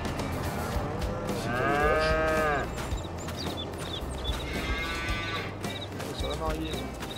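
Virtual cattle on a Farming Simulator 22 farm let out long, drawn-out moos, one after another, while someone talks over them in French.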